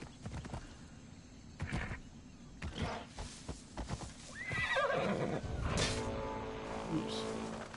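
Horse neigh in the video game Assassin's Creed Odyssey, a whinny with clip-clop hooves amid game sounds and other voices, fairly close and loud.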